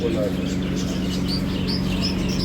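Lovebirds chirping in a cage, several short high chirps and tweets scattered over a steady hum of background noise and voices at a shop.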